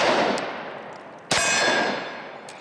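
A Glock 20 Gen 4 pistol fitted with a DPM recoil reduction system fires two loud, close shots about a second apart, each a sharp crack followed by a decaying echo.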